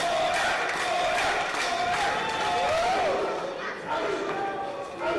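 A wrestling crowd roars continuously inside the Municipal Arena in Watertown, a dense wash of cheering and shouting with voices rising and falling, heard close and loud throughout.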